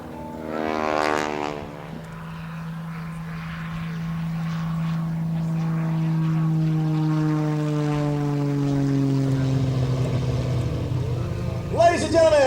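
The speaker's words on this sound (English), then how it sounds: "on takeoff, snapping into the inverted and rolling it straight up, Mr. Rob Holland" Aerobatic propeller airplane at an air show, its engine drone rising and falling in pitch as it passes, loud and sustained throughout, with crowd noise and a brief burst at the end.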